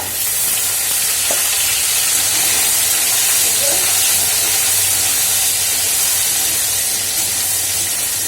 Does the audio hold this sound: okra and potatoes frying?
yes